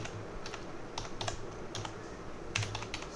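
Typing on a computer keyboard, quiet close key clicks in irregular short bursts with brief pauses, alone without talk.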